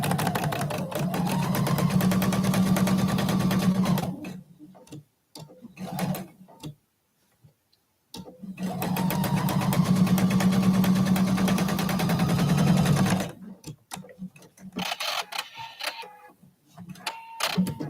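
Sewing machine stitching a quilt block, with two long close bursts of rapid, even stitching separated by quiet stretches filled with scattered clicks and handling taps.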